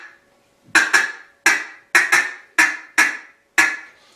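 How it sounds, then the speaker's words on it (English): A handheld duck call used for hunting ducks gives seven sharp, close quacks in an uneven rhythm, a few quick pairs, each clipped with a short raspy decay, alone without talk. "you can just use that call to keep those ducks coming"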